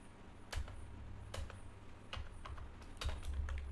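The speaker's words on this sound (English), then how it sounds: "I can just simply type that factorial program" Keys clatter on a computer keyboard as a factorial program is typed, quiet close clicks arriving in short irregular bursts with small gaps, no talking.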